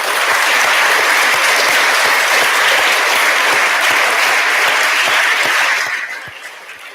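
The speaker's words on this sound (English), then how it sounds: "can we give them a round of applause?" A conference audience gives a full round of applause, thick continuous clapping from many people that holds steady, then thins and fades near the end.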